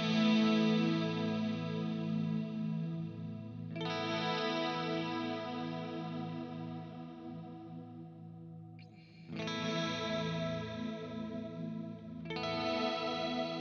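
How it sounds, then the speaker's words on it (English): An electric guitar played through the reverb on a Kemper Profiler, sounding sustained chords with long, washy decaying tails that ring between strikes, loud and alone. "really easy if you want to just get a great kind of reverb sound right off the bat"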